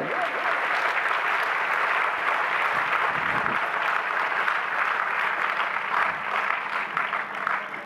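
An audience at a Jain religious discourse claps, a moderate, even spread of applause heard at some distance, running steadily throughout.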